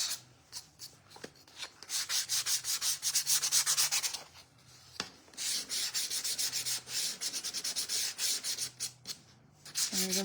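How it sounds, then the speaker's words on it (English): Hand sanding with sandpaper along the edges of a small wooden shelf sitter, close-up rasping strokes that come in short bursts and pauses, with no voices. "I'm just gonna go around the edges and sand."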